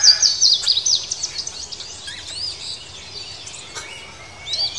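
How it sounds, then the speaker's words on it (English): Blue jay, a bright blue and grey songbird of the crow family, giving sharp chirping calls, loudest at the start and again near the end, over a faint hiss of insects and outdoor ambience. "A blue jay is a songbird."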